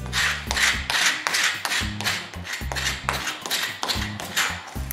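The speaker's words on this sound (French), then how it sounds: "René gratte le plus gros avec un grattoir" A hand scraper drags across a wooden floor, lifting dried varnish drips in repeated rough, rasping strokes, each with a knock as the blade catches, close and steady in rhythm.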